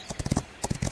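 Horse hooves gallop in a Rival Stars Horse Racing race, a quick, close clip-clop rhythm of about a dozen sharp hoofbeats in under a second, loud and alone.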